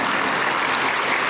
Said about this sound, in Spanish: Aplauso, aplauso para Dios.